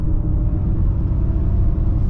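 A 2024 Ford Mustang Mach-E speeds up at night, heard from inside as a steady low road and tyre rumble with a faint motor whine, fairly loud and continuous for about two seconds without talk.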